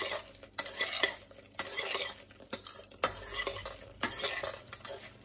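Utensil scraping and clinking steadily against a bowl while stirring to coat tofu, with repeated sharp taps and a continuous rustling swish, close and fairly loud, no voices.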